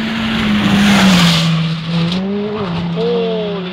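A Honda Civic rally car speeding past on a forest stage at the Carrick Forestry rally, a loud rising then falling engine snarl with a gear change and tyre noise as it goes by close up.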